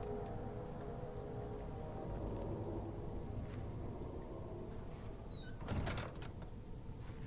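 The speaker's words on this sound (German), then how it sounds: "Sollte versuchen, die Tür nicht so zu knallen" In the horror video game Amnesia: The Dark Descent, a door slams shut with one heavy thud near the end, following a stretch of low ambient rumble with no talk.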